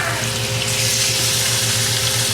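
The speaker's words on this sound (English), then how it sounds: "So they're all seasoned up, getting them in the pan." Seasoned chicken pieces fry in a pan with a steady, close, dense sizzle and crackle that holds evenly throughout, with no voices.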